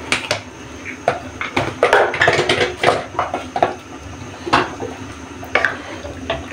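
Water is poured into a pot for chicken nilaga, with splashing bursts and clinks of metal cookware arriving in irregular, fairly loud bursts.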